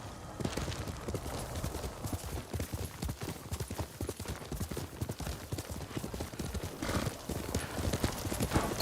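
A horse ridden in the video game Ghost of Tsushima pounds out continuous rapid hoofbeats in a steady galloping rhythm, loud and close throughout, over outdoor game ambience.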